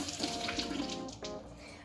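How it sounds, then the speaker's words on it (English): Tap water runs steadily over produce being washed in a kitchen sink, a close, continuous splashing hiss lasting just under two seconds. "doing a light wash on them"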